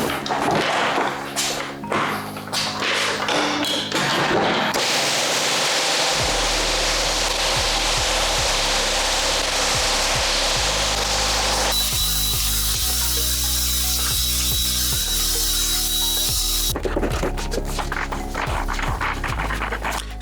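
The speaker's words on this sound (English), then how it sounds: "I'm going to buff the floor just to give it a nice smooth surface" A floor buffer runs steadily over a sanded wood floor, a loud continuous whirring drone with a deep hum and shifting gritty hiss, no talking.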